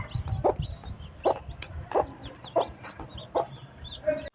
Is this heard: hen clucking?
yes